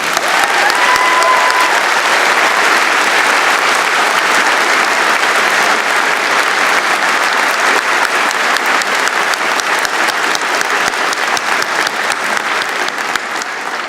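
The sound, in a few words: audience applause at a university convocation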